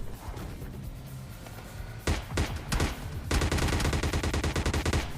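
PUBG Lite, a battle royale shooter: a short quiet lull gives way to sharp gunshots, then a loud, rapid automatic burst that rattles on close and steady to the end.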